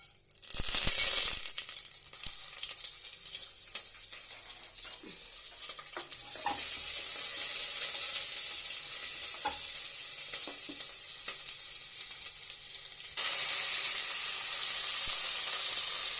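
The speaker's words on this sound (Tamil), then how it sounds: "தக்காளி பூண்டு அதையும் போட்டு வதக்குறேன்" Tomato and garlic sautéing in hot oil, a loud steady sizzle that swells as the pieces hit the pan, with occasional spoon scrapes and knocks, close up and without any talking.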